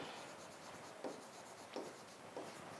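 Pen writing notes on paper during a biology lesson, a few faint scratchy strokes in a quiet room, spaced about a second apart.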